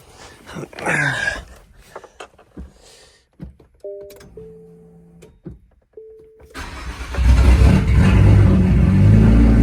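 A Nissan Z that has sat unused for a month or more cranks with short bursts, then catches and starts, settling into a loud, steady idle and rev that fills the last few seconds.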